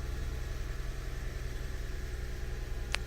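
Idling engine of a 2006 Lexus GS300 after an engine and harness swap, a low steady hum with faint vibration, heard close and alone, with one brief click near the end.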